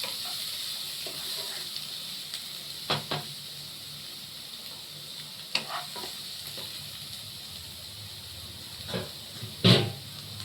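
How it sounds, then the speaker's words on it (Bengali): Onion and garlic fry in oil with a constant soft sizzle and hiss, close by, broken now and then by scraping stirs of a utensil against the pan. "পেঁয়াজটা রসুনটা ভালো করে ভাজবো।"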